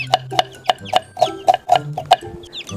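Small colourful chicks peeping in a series of short, high chirps at a regular rhythm, close by, with a quiet background hum and no talk.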